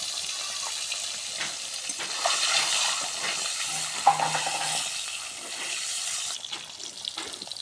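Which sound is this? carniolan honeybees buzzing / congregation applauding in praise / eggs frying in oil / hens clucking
eggs frying in oil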